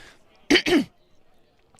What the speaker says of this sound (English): Excuse me again for that cough